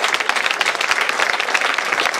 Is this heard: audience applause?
yes